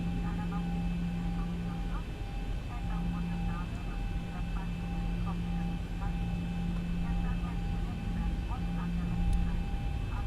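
A Boeing 737-800 taxis toward runway 15 at Salzburg in the X-Plane 11 flight simulator, a steady engine drone with a low hum and faint tonal whine running throughout at moderate level, with a voice talking over it.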